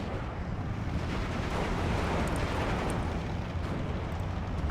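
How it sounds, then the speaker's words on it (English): Artillery support barrages in a WWII strategy game, a dense continuous rumble of explosions and blasts rolling on without pause, loud and close, with no talk over it. "Артподдержка."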